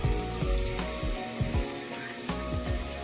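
Chopped onions softening in hot oil in a pan for an Iftar chicken dish, a low steady sizzle with intermittent clinks and scrapes of a utensil, fairly quiet and close.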